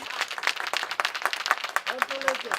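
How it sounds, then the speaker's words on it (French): An audience at a club Grand Prix prize-giving in Réunion claps under a spoken announcement, with scattered, uneven claps that are fairly faint and mingle with the talking throughout. "Donc je vais demander des applaudissements pour Yannick."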